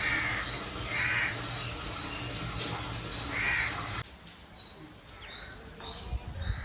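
A crow caws several times outdoors in a village, its calls coming at irregular intervals over steady background hiss and rustle, moderately close and fairly clear.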